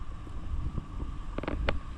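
Strong wind at sea buffets the microphone aboard a small boat, making a steady low rumbling roar with a few faint knocks near the end.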